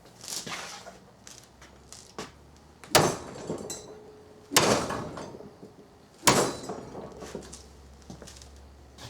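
A piece of white oak clamped in a vise takes several sharp, loud whacks spaced a second or two apart, each with a short ringing tail, and lighter knocks fall between them.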